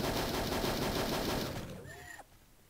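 Gunfire from the Hogs of War video game: a dense, loud burst of rapid shots that runs for about two seconds, then stops abruptly, leaving a faint tail.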